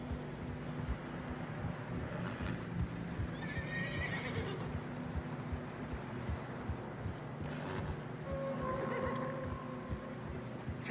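Horses trudge through snow in Red Dead Redemption II, their hooves thudding in a steady rhythm under wind noise, with a couple of brief whinnies and snorts.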